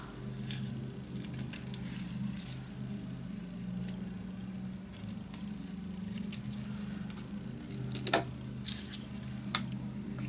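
Scissors snip repeatedly through gel print paper, trimming the borders off the prints, with small crisp cuts and paper rustles scattered over a steady low background hum.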